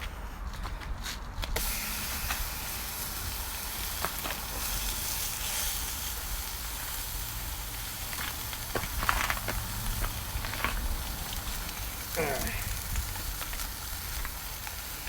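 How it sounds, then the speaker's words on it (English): Sirloin tip roast searing in a hot Dutch oven, a steady broadband sizzle and hiss that runs the whole time at an even level, with a few small bumps and clicks of handling and no talk. "Sear the meat on each side."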